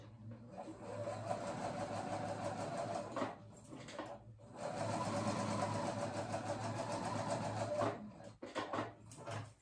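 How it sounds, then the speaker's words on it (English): A sewing machine runs a long, steady seam along the edge of a shawl-collar sweater, whirring close and continuous with a couple of brief pauses. "I went across the bottom and now I'm going up the side"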